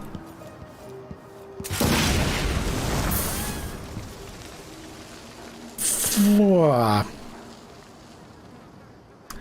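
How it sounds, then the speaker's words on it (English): Fireworks burst inside a Dishonored 2 game level: a loud crackling, fizzing explosion that runs for several seconds, followed by a second sharp burst with a whistling, descending tail. "Did somebody leave fireworks over here?"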